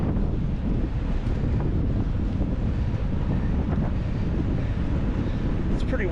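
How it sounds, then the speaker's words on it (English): Strong wind buffets the microphone in a constant roaring rush during a bicycle training ride, with faint water or surf sounds underneath and a few distant voices. "Pretty windy."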